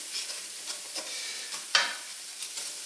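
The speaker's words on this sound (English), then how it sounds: "And then stir the flour into the oil." All-purpose flour is stirred into hot oil in a pan for a roux, making a soft, quiet sizzle broken by repeated scraping strokes and one sharper clink of the utensil against the pan.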